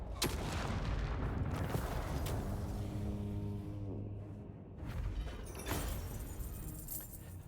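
Dwarf cannons fire on a Total War: Warhammer 3 battlefield, several sharp distant booms over continuous battle noise, with a mechanical rattle in the middle.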